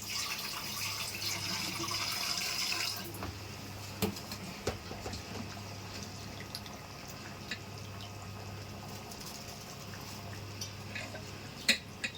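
Water from washed rice pours off for about three seconds in a steady gush, followed by quiet kitchen handling with scattered small clicks and drips.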